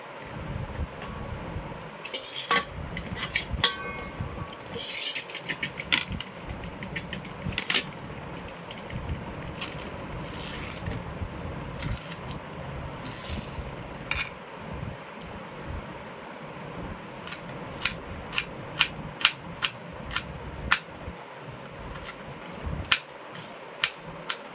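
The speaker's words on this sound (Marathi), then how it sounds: "बघा एकदम चिरून अशी बारीक घ्यायची शेवला सगळी." Hand-chopping of shevla, a wild vegetable, cut finely like onion for a village-style bhaji, with a run of sharp knife taps on a board, sparse at first and then quicker and more regular, over steady outdoor background noise.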